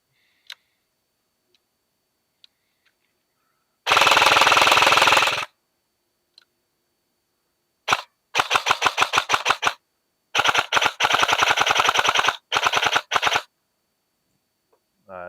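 Airsoft AK-pattern rifle from an LCT Version 3 build firing full-auto with rate-of-fire reduction enabled, several short bursts of rapid mechanical clacking, loud and close, separated by silence.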